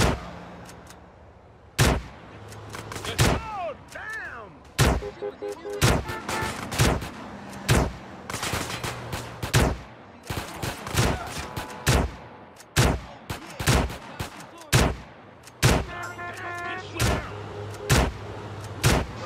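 Repeated gunfire from the video game GTA San Andreas, sharp loud shots in irregular bursts and single blasts across the whole stretch, with some in-game vehicle and ambient noise between them.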